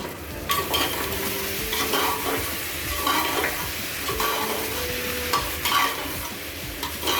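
Boiled water poured into tempered arbi-stalk and urad dal in a hot pan, giving a steady loud sizzle and bubbling hiss with faint utensil clinks, no voices.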